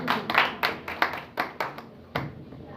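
A congregation at a Friday Christian prayer service claps loudly, a quick run of sharp, close hand claps that thins out into a few last separate claps.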